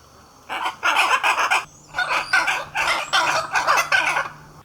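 Two hyacinth macaws perched nearby at Porto Jofre in Brazil's Pantanal give loud, harsh, raspy squawks in two close bouts of rapid calls separated by a short pause.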